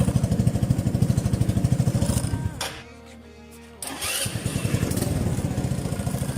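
A Soviet Vyatka Elektron scooter fitted with a Chinese engine runs with a close, rapid putter. The engine drops away briefly mid-clip, then picks up again with the same steady beat.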